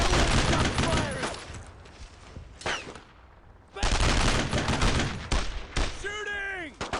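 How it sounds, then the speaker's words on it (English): Heavy World War II combat gunfire in Brothers in Arms: Road to Hill 30, with loud continuous volleys and machine-gun bursts, a brief lull midway, then renewed firing as a voice yells over the battle. "Let's keep up the fire! Keep shooting!"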